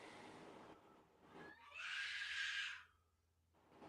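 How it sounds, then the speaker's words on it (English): A child screams at a distance in the background, a high sustained shriek of about a second rising out of faint room noise between other muffled sounds. "Can hear my son screaming."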